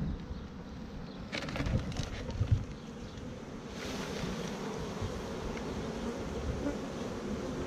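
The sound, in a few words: honeybees buzzing while shaken into box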